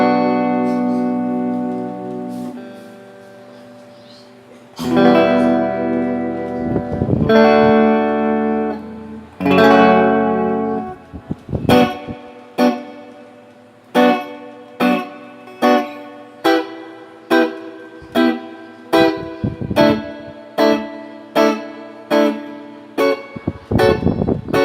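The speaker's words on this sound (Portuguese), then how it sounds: "Que é o som do spring totalmente flat." Guitar played through a Lightyear BFFX 2 reverb pedal with the spring reverb set flat: sustained chords, then a run of about fourteen evenly spaced plucked notes, each decaying quickly with little tail.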